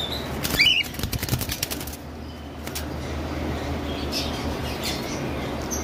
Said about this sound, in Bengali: আসলে কোকাটেল পাখিগুলার খাঁচা ছোট হয়ে গেলে খুব লাফালাফি করে